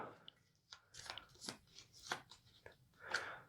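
Cards for the Harry Potter Death Eaters Rising board game are shuffled by hand, giving soft papery riffling and flicking sounds in short uneven bursts, close and fairly quiet.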